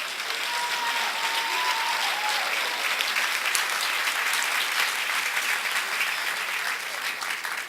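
An audience at a 2002 middle school graduation claps steadily for the graduating class, a dense continuous wash of applause from a large crowd that holds throughout before tapering slightly at the end.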